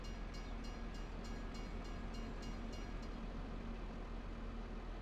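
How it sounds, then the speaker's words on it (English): A train passes a railroad crossing in the Farming Simulator 25 video game, a steady rail rumble with a row of faint, evenly spaced high tones like a crossing signal or horn, with no talking. "that's why you don't try and run through a train crossing"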